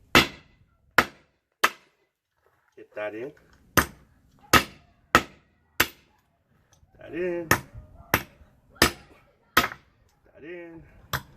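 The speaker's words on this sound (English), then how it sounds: "you need a special tool. I call it a big hammer." Loud, sharp blows of a big hammer knocking studs out of a metal Toyota Hilux rock bumper ring out one at a time at an uneven pace, with someone talking briefly in the pauses.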